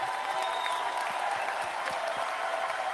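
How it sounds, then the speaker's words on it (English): Steady, dense applause from a large crowd at a workers' rally in Oshawa, continuous and even throughout with no pauses. "Give Jennifer a big round of applause."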